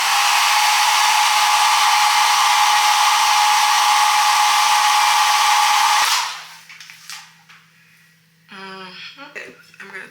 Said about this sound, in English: I'm gonna go in my blow dryer in a warm setting and press everything down till it's secure